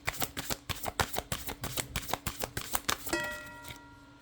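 Tarot cards riffled and shuffled in quick repeated bursts, close and crisp, ending with a soft ringing tone as the shuffling stops.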